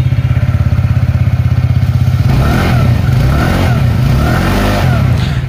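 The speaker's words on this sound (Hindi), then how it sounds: "कमेंट बॉक्स में जरूर बताएं दोस्तों कैसा लगा एग्जॉस्ट साउंड आपको" A TVS NTorq 125 XT scooter's exhaust, loud and close: a rapid, even idle putter at first, then a few revs climbing and falling over a continuing engine beat, with no talk.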